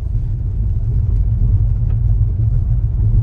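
A 2024 Maruti Brezza driving off-road, heard from inside as a loud, steady low engine and road rumble that continues without a break.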